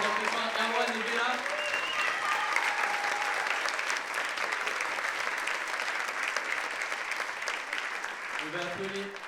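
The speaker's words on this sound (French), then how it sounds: "On peut applaudir très fort Erwan et Béla" A live rock opera audience applauds performers with steady, dense clapping that holds throughout at a constant loud level, a continuous wash of crowd handclaps.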